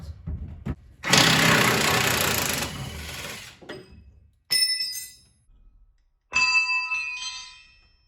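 Truck bumper bolt being removed, with a burst of power-tool whirring followed by sharp metallic clinks and ringing as parts drop, in a quiet garage setting.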